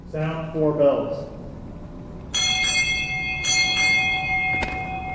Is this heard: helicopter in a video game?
no